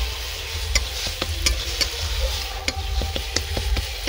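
Marinated spice paste with small river sand goby fish sizzles steadily in a frying pan while a spatula stirs and scrapes in repeated sharp clicks, close and continuous with no talking.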